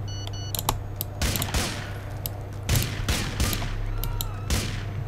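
Johnny fires his gun in GTA 4, producing loud bursts of gunfire in several separate volleys over a low engine-like rumble, with a few keyboard clicks between them.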